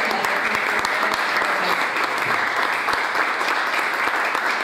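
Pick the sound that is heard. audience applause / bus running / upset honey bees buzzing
audience applause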